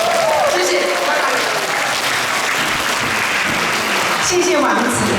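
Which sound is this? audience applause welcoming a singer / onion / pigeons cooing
audience applause welcoming a singer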